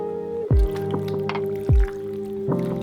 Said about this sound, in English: Mix the chicken well, making sure every piece is coated.